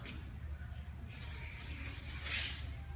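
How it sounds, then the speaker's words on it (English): A sustained hiss of a hair finishing spray from an aerosol can, about two seconds long, with a faint low hum underneath. "I'm going to give a little bit more of a spritz with our Awapui Wild Ginger finishing spray."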